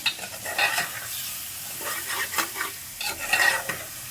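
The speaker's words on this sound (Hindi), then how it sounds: "1 मिनट तक इसकी भुनाई करेंगे हल्की आंच पर" Continuous stirring as potatoes stir-fry on low heat in a pan: repeated scraping strokes and soft clatters over a low sizzle, close and fairly loud.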